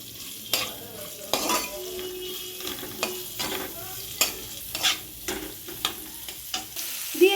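Chopped onions fry in oil with a whole bay leaf in a pan, sizzling steadily while a spatula stirs and scrapes at an irregular rhythm, close up with no talk.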